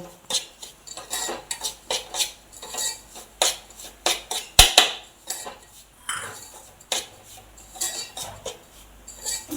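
Semolina (rava) roasting in a pan on a low gas flame is stirred with a utensil, making repeated close scraping swishes and occasional metallic clinks in an uneven rhythm, with no talking.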